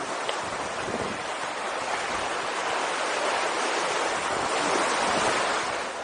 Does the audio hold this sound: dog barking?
no